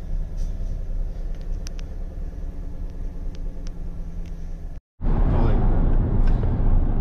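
A rented U-Haul truck, a Chevy, rumbles as it drives, giving a steady low cabin drone and road noise. The sound cuts out briefly, then returns louder and rougher.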